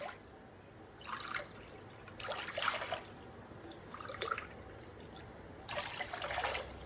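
Water pours into a pan in several separate bursts, a splashing trickle that starts and stops against a quiet background with no talking.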